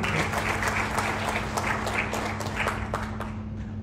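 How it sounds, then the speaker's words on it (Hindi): An audience at a Karni Sena gathering in Bhopal applauds Tripti Singh with steady, dense clapping that continues unbroken, moderately loud, beneath a low mains-like hum. "तृप्ति सिंह के लिए तालियां बजा रहा है"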